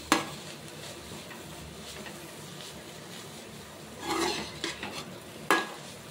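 Quiet, steady sizzling of vegetables sautéing with turmeric in a pan on low heat, with a few scraping stirs and a sharp clink of a utensil toward the end.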